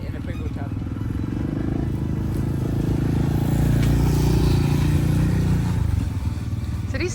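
A rally motorcycle at a desert race bivouac passes by, its engine a steady, fairly loud drone that swells and then fades, with people talking over it.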